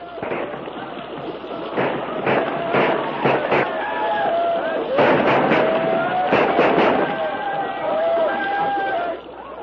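Rifles fire in a radio drama battle scene, a volley of sharp cracks in quick bursts ringing out over a steady crowd-like rumble and shouting voices.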